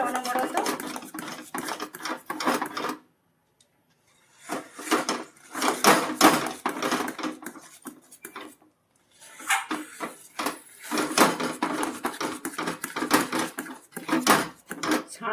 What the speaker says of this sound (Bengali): এখন নেড়ে যাবো, নেড়ে নিচ্ছি।